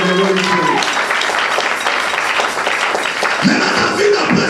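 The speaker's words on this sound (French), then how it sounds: "Acclamez pour le Saint-Esprit." A church congregation applauds steadily, a dense, loud wash of clapping that fills the room throughout, with a few voices rising over it.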